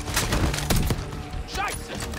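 Bursts of gunfire in Call of Duty: Black Ops 6, several sharp shots and a short rattling volley in quick succession, with game sounds and voices behind them.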